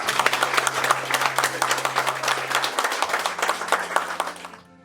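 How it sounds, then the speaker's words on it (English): A small crowd applauds three sheriff candidates at a local candidate forum, a steady patter of many hands clapping at moderate loudness for several seconds before fading out, with a low hum running underneath. "we do want to give them a round of applause right now"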